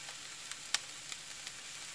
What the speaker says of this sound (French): mettre la cuillère à soupe de farine et laisser cuire 2 à 3 minutes en remuant de temps en temps